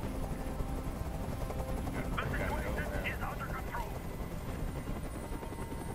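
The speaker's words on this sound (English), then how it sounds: "I can't stand that noise anymore. Tell that helicopter to get out of here." Constant rapid thudding of a helicopter's rotors in the video game Detroit: Become Human, loud and close, with a voice speaking briefly over it and scattered game-like effects.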